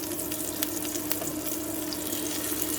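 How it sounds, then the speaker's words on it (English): Meatballs frying in a pan with a dense, steady sizzle and crackle that stays even throughout, close and alone with no talk. "I'm going to fry that for about 2 minutes without even touching it."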